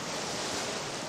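Sea waves wash over wet sand on an Indian Ocean beach as the tide comes in, a steady broadband rush of surf with some wind noise, continuous and fairly close throughout.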